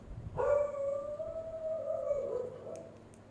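A dog lets out one long, wavering howl that starts loud and near, holds for around two seconds, then tapers off, with no other voices over it.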